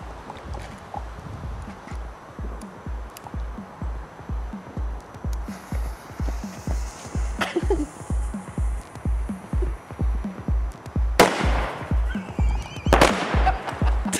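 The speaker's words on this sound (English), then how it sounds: "I will do an illegal firework now" A rapid, regular series of sharp cracking pops from an illegal firework going off on New Year's Eve, with a couple of brighter bursts near the end.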